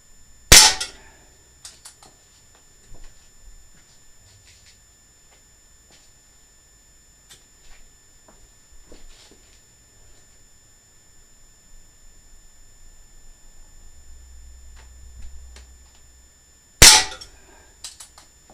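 Two sharp cracks from a stock Crosman 2240 pellet pistol with a 7-inch barrel, one near the start and one near the end, loud and close, with quiet small clicks and handling noise between them.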